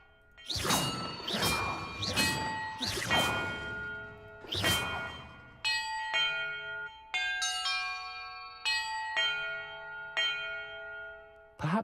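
Bells ring out in a video game, a run of loud clanging strikes at first, then a slower sequence of clear, sustained tones at different pitches, each one ringing on and overlapping the next.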